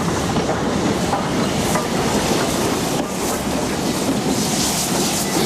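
Steam locomotive 45690 Leander rolls along with loud continuous rail rumble, clattering wheels and wind buffeting, close and steady.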